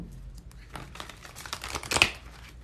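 A deck of reading cards is shuffled close by, a quick run of papery riffles and crinkles building to a sharper flurry near the end, with no talking.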